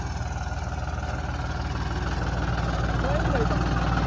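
A tractor engine idles steadily with a low, rhythmic chugging throb, fairly close and constant throughout.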